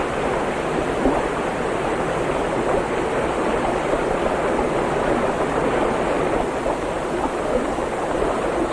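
Water flows steadily through mountain scenery of snow and forest, a broad, continuous rushing wash that stays close and loud from start to finish, with no voices over it.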